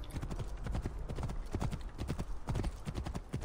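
Horse hooves clip-clop steadily at a brisk gait in Assassin's Creed Origins, close and loud, with an occasional whinny and game ambience underneath.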